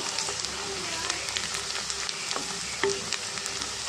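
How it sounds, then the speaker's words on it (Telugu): Onions, with turmeric added, fry in a pan for a brinjal tomato curry, a steady close sizzle with soft crackles and a few sharper pops, a voice speaking faintly over it. "ఉల్లిపాయలు అయితే బాగా వేగినాయండి"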